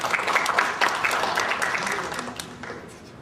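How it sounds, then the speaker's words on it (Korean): Audience applause at a Korean forum on copyright and information use in the digital environment, greeting a panelist's introduction. Dense, steady clapping fills the room and fades slightly toward the end, with no talk over it. "박수 부탁드립니다."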